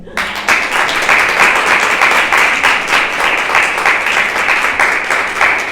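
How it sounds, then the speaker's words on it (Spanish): A congregation at a Christian service in Santa Fe bursts into loud, steady applause that starts abruptly and keeps going without talk, close and full throughout. "Vamos a darle un aplauso"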